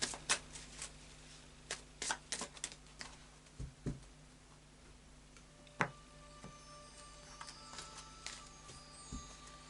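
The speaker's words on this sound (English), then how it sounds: "So I'll just do a final shuffle of the Fairy Oracle cards by Brian Froud." Fairy Oracle cards by Brian Froud riffle and tap in quick, irregular bursts of soft clicks, with brief pauses between shuffles in a quiet room.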